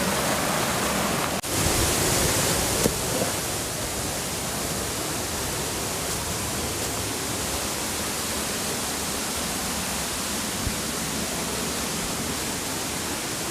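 Fukugawa Falls in northern Okinawa, Japan, pours in a constant, dense roar of rushing water, steady and close with no breaks.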